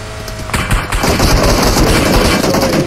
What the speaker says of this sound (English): Gun sound in front?